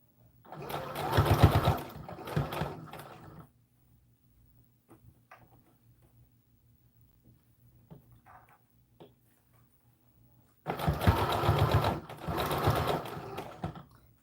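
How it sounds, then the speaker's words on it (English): A domestic sewing machine stitches the bodice of a doll dress in two loud, close bursts of rapid mechanical whirring, separated by a long quiet pause with faint handling clicks. "make sure you're not sewing on anything that you don't want to sew on."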